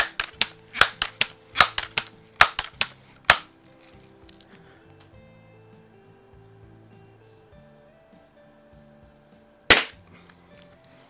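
Crosman 760 first-variant air rifle fired while plinking: a quick volley of about nine sharp, close cracks over the first three seconds, a long quiet stretch, then one more loud shot near the end.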